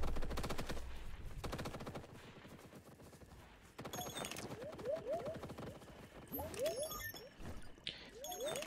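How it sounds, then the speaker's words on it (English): Gunfire rattles through a firefight in the video game The Cycle, with rapid automatic bursts and scattered shots layered over game background sounds. The shooting is sustained at mid volume, dense at first and then broken into shorter bursts. "I'm hearing the shooting."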